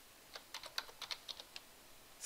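Quick bursts of typing on a computer keyboard as a heading is entered, about a dozen light, close, irregular key clicks with no voices.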